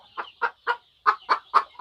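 Siruvidai native chickens on a poultry farm in Namakkal, a quick series of about seven loud, close, evenly spaced gobbling clucks with no voices.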